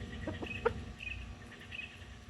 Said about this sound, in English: And them 3 hens there's 3 hens from Recreational Homestead also.